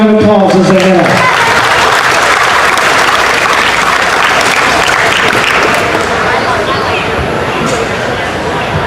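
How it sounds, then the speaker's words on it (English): Audience applause fills an event center during a county fair livestock show, loud and steady after a brief announcer's voice at the start, then slowly thinning. "Let's show them a big round of applause as they have."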